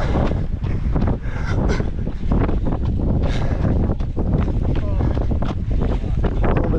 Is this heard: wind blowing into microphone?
yes